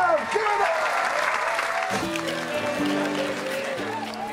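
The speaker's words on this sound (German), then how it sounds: "Applaus!" Audience applause after a Latino dance show aboard the Carnival Vista cruise ship, a steady wash of clapping under music, with tonal musical lines continuing through the applause.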